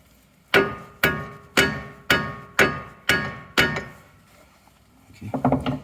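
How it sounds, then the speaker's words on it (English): Seven evenly spaced, sharp metallic hammer blows driving a ball joint into the front suspension of a BMW E30 Touring, close and ringing, followed by a brief rattle of parts. "Maybe I do need to press it down a bit. And by press, I mean hammer."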